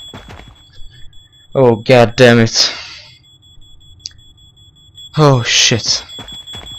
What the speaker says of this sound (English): Oh fuck the fire alarm.